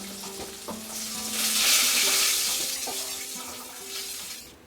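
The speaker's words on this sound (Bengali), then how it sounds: "পটলটাকে আমি ভালো করে ফ্রাই করে নিয়ে একটা বাটিতে তুলে নিচ্ছি।" Pieces of pointed gourd (potol) fry in hot oil with a continuous loud sizzle that swells in the middle and eases slightly toward the end, with no talking.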